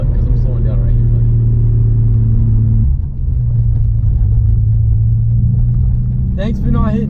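A lowered, stock Nissan Skyline on stiff suspension rolls across railroad tracks. Under a loud engine drone, low rumbles and jolts come through the cabin while someone talks over it.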